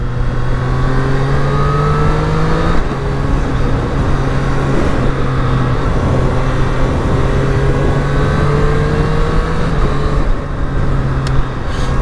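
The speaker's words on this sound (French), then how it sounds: "Donc nouvelle Street Triple 765 RS dans son modèle jaune, nouveau roadster de chez Triumph." A yellow 2023 Triumph Street Triple 765 RS roadster engine revs hard and climbs through gears with quick-shifter changes. The drone is loud, steady and close, and the pitch rises and falls over several pulls, with no talking.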